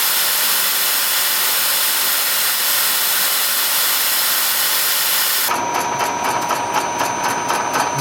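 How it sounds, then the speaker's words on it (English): A milling machine cutting threads on an engine head gives off a steady, loud hiss of cutting and motor noise, then shifts to a rhythmic, chattering pulse partway through. "Mill is cutting the threads."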